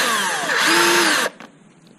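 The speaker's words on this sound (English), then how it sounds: "in order to drill this out, we're going to use a step drill" A step drill bores out the end of a CRF250L ProTaper Contour handlebar in a steady loud whine that rises in pitch midway, then stops abruptly and leaves a faint hum.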